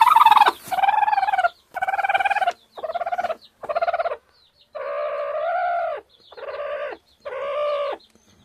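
Medak breed chickens in Telangana give a series of about eight loud, drawn-out calls, close by, each separated by short pauses with no talking.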